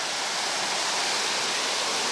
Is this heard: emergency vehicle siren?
no